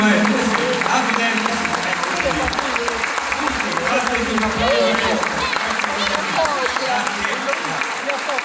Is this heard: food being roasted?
no